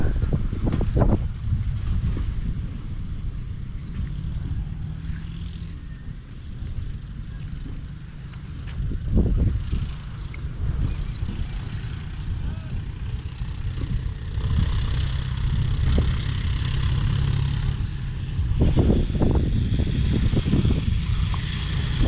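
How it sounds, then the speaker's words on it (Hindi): A tractor hauling an empty trolley back toward a field being readied for groundnut sowing, heard as a steady low engine drone that stays continuous throughout, with wind buffeting the microphone. "फिर अभी एक ट्रैक्टर आ रहा है वापस खाली करके ट्रैक्टर"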